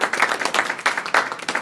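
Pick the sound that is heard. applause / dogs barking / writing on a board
applause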